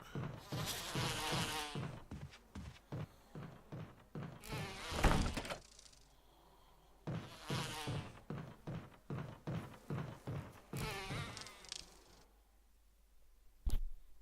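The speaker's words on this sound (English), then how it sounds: "Okay, lots of bees in there." Bees swarm inside a giant beehive in the Resident Evil HD Remaster video game, a close, loud buzzing that comes in repeated bursts of rapid wingbeat pulses separated by quieter gaps, with no talking.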